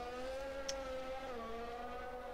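Video game Formula 1 race cars hold a steady, faint, high engine drone with slight pitch shifts, continuous and without speech.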